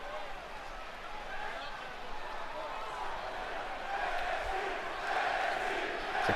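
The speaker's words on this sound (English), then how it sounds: "The crowd chanting NXT," A wrestling event crowd fills an arena with a dense, sustained roar that swells louder toward the end, suggesting rhythmic chanting from a large audience heard at a distance, with no distinct individual voices up front.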